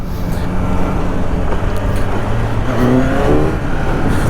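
A used motorcycle engine, bought second-hand after a heavy front-end crash, runs nearby at a steady idle with a brief rise in revs late on, loud and close, no talk.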